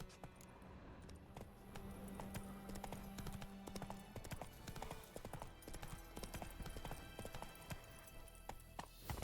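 Hooves of Roach, a horse in a video game, clip-clop in a steady walking rhythm for the whole stretch, fairly quiet and close, with a faint voice and game ambience underneath.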